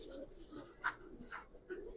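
Giribaz pigeons in a Bangladeshi loft give low, soft coos close by, with a few brief sharper calls rising above the murmur and a voice faint underneath.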